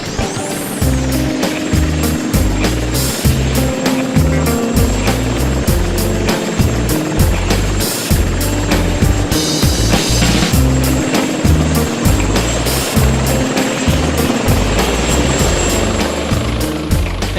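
Police helicopter landing, a loud close rotor thudding with rapid regular beats and a whining turbine above it, sustained throughout with some gusty wind and surging roar.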